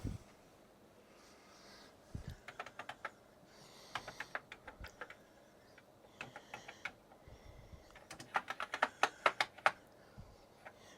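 Keys clattering on an Atari 65XE computer keyboard, bursts of sharp mechanical clicks in irregular runs, growing denser and louder near the end, with no talk.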